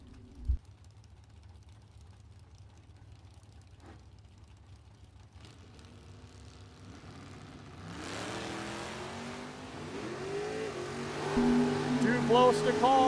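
A 1968 Cuda and a 1978 Chevy Malibu launch in a bracket drag race at a national event, engine roar building from quiet and swelling loudly toward the end, with a track announcer talking over it.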